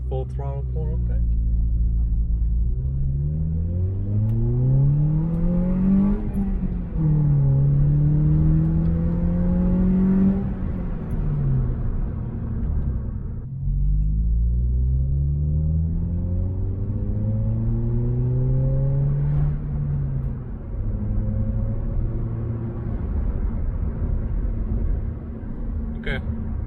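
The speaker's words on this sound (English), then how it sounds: "let's give it a full throttle pull real quick" A Toyota Corolla with a Borla exhaust is heard from inside during full-throttle acceleration, its engine note climbing through the gears in repeated rising sweeps with brief drops at each shift.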